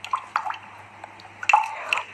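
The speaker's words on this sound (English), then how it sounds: "the machine will start doing a self-clean water test, and the water will also heat up" An espresso machine runs a self-clean water test while its water heats, giving soft drips and trickling water sounds close by over a low steady hum.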